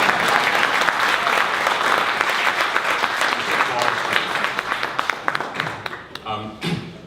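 A synthesized applause sample triggered on a LinnStrument expressive controller gives a dense wash of crowd clapping that thins out and breaks into a few scattered, uneven claps and tones at the end.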